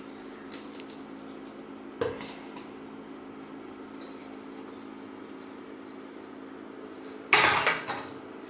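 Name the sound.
pangas fish being flipped in a pan with banana leaf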